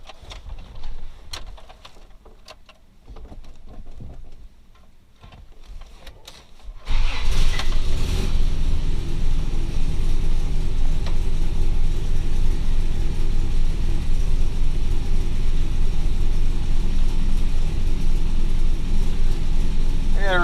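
A 1989 Toyota pickup is started and driven around a yard, with a few quiet clicks and shuffles giving way to a sudden, steady mid-pitched engine drone that holds loud and even to the end.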